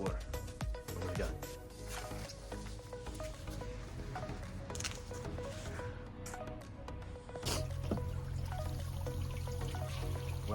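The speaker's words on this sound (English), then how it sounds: "last thing I can do is water" Garden watering in progress: a steady hiss of water spraying and splashing onto soil and plants runs throughout, and the flow grows louder and heavier near the end.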